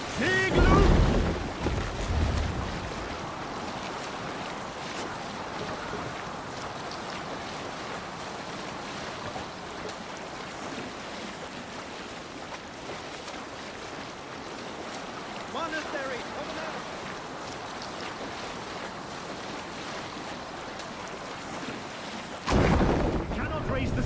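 A sailing ship at sea in Assassin's Creed Valhalla, with a steady wash of waves and wind against the hull, a broad continuous rush that stays even throughout, with louder bumps at the start and end.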